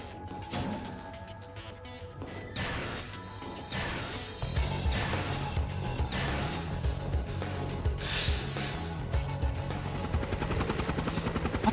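Flying Archaism Pale Apache S machine overhead in the video game Trails of Cold Steel 3, a loud, dense mechanical roar with rapid thumping and crashing bursts that builds in intensity throughout.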